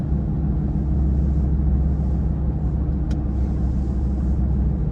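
Steady low interior road rumble inside a moving 2020 Ford Raptor truck, a constant engine and tire drone with one faint brief click partway through.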